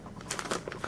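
A plastic bag holding packing peanuts crinkles and rustles when handled during a knife unboxing, a short burst of close, irregular crackles.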